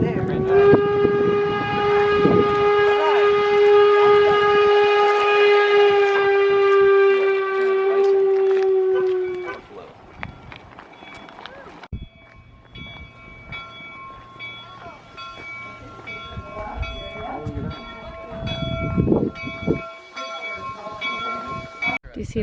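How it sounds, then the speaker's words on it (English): A train sounds a long, loud, steady horn blast for about nine seconds at the Golden Spike railroad site, then distant rail rumble and outdoor ambience follow, with people talking faintly afterward. "Oh, there's the train."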